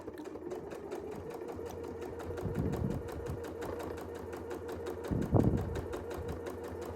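A sewing machine hums in a fast, steady, even rhythm as it free-motion quilts a small wavy line, running close and continuously with a slight rise near the end.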